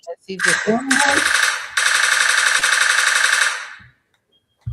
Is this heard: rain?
no